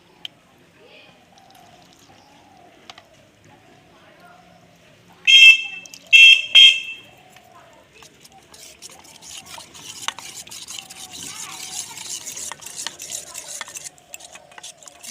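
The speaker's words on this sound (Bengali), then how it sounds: "এবার আমি পরিমাণ মতন জল দিয়ে ভালো করে গুলে নেব" Water is poured into flour and stirred into batter for vegetable chops: two short loud clattering bursts, then a steadily building wet swishing and scraping of batter being whisked in a bowl.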